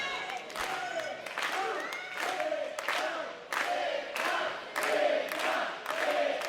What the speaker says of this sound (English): Crowd is coming alive for big time.